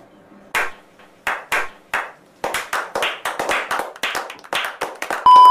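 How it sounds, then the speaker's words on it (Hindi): Sparse, sharp hand claps at first, then a quicker run of crisp irregular claps, close and dry with no talk over them. "तालियां"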